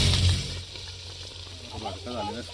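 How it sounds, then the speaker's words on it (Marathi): Marinated chicken frying in hot oil left over from browning onions for a chicken dum biryani, giving a steady, close sizzle throughout, with a voice briefly heard near the end. "आता आपण यात मस्त चिकन शिजवून घेऊया आपलं मॅरिनेट केलेलं"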